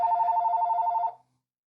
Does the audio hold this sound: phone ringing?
yes